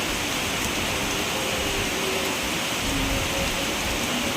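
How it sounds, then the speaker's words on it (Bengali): Dense, steady roar of heavy rain pouring down, unbroken and fairly close, with no other sounds standing out. "কী জোর বৃষ্টি হচ্ছে"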